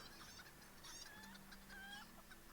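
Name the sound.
chicken clucking in a video game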